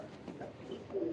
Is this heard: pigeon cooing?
yes